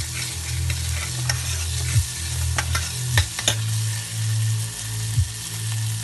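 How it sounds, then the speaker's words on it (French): Onions, shallots and garlic sweating gently in a pan while being stirred: a low steady sizzle with a humming background, several crisp spoon scrapes and taps against the pan, close and unaccompanied by speech. "On va tout mélanger, faire revenir, tout doucement, sans coloration."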